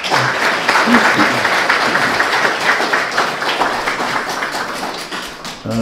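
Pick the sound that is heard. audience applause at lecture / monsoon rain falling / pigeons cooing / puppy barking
audience applause at lecture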